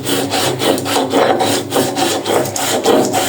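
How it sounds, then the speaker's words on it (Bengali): Black cumin seeds are ground fine by hand in quick repeated rubbing strokes, a rhythmic scraping close up with no talking. "কালো জিরাটা ভালো করে মিহি করে নিব আর কি।"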